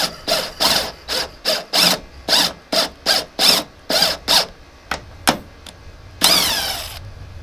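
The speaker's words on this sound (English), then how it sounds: "I'm drilling these in partial way and then I'll backing them out" A power drill whirs in a rapid series of short bursts, driving screws partway into a jon boat, stopping and starting repeatedly, then one longer grinding run near the end.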